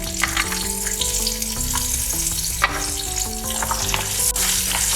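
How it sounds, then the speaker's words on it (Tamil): Steady sizzling of about fifteen small onions frying in hot oil in a kadai for sambar tempering, with occasional stirring scrapes throughout and no voices. "சாம்பார் தாளிக்கிறதுக்கு கடாயை வச்சு எண்ணெய் ஊற்றி வச்சுருக்கோங்க இதில் சின்ன வெங்காயம்"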